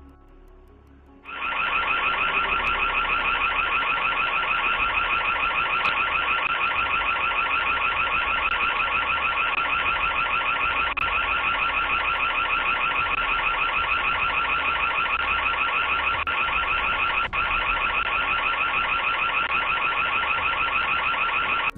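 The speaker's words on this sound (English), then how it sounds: "their crime is stopped in its tracks when the camera's sirens go off" A doorbell camera's siren alarm blares continuously and loudly for about twenty seconds after a brief quiet start, a steady, piercing electronic wail with no voices over it.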